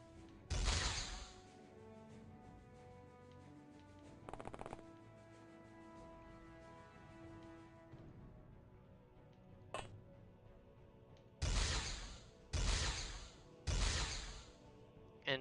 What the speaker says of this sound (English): we got 3 hits from longer range with a normal las gun